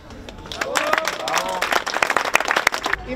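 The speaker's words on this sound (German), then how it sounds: "Da möchte ich auch einen großen Applaus bieten für meine Kollegen vom Verschönerungsverein" Outdoor crowd clapping at a 2023 maypole raising in Mautern an der Donau, a steady, dense patter of many hands lasting the full stretch, with voices mixed in underneath.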